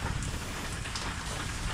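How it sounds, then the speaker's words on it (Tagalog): Steady rain patters down in a continuous wash of drops, moderately loud and even throughout, with no voices. "medyo humupa na ang ulan"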